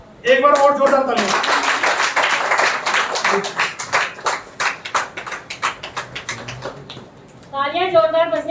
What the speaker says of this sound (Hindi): एक बार और जोरदार तालियां